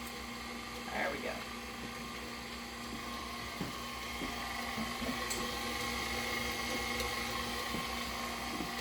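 An electric mixer beating red velvet cake batter drones steadily under a voice, a constant motor whine with occasional clinks against the bowl.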